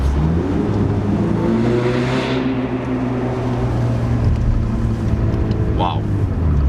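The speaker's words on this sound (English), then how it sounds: "We're gonna downshift." A modded Ford Mustang EcoBoost with a turbo engine downshifts and accelerates through a tunnel, a loud droning engine roar with rising revs and a brief whoosh, echoing off the tunnel walls.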